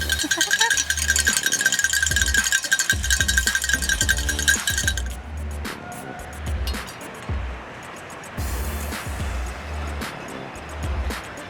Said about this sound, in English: all you could hear is yelling and cowbell